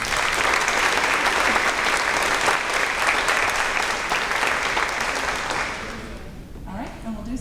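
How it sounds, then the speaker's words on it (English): Applause at a fifth grade promotion ceremony, a loud sustained roar of clapping from a crowd of families that carries for several seconds before tapering off near the end. "One more round of applause"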